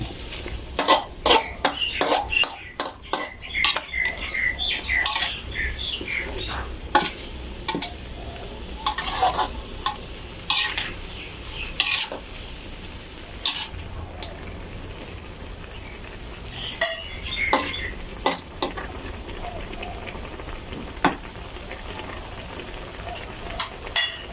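Carrots stir-fried with chicken giblets in a wok, a constant loud sizzle broken by frequent rapid clacks and scrapes of the spatula, with occasional faint voice in the background.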